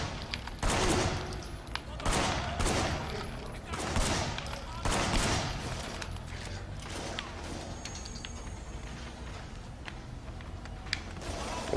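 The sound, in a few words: gunfire and blind fire in Sleeping Dogs video game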